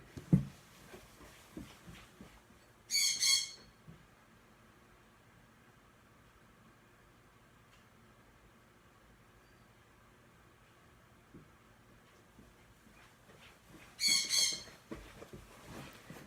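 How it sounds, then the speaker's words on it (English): Pet bird in an apartment, startled, gives two short harsh squawks about eleven seconds apart, fairly close and loud above a quiet indoor hiss of room noise, with no speech. "I rattled up the bird when I just ran across the apartment"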